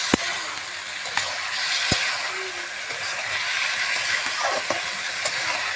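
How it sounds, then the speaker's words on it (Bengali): Jackfruit curry with a little water added simmering in a pan, giving a soft continuous hiss with a few sharp clicks from a stirring spoon against the pan, fairly quiet and close. "একটু জল দিয়ে কাঁঠালটা নাড়িয়ে ছেড়ে দেবো ঢেকে সেদ্ধ হওয়ার জন্য"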